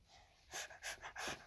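A human voice imitates the hungry dog from the game 99 Nights in the Forest with a few breathy, panting bursts of huffs and snorts, close and fairly loud.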